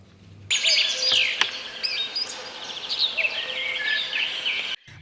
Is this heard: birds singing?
yes